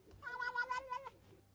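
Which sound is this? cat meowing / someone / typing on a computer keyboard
cat meowing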